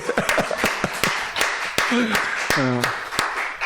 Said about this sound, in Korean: 우리 그 박수 쳐야 돼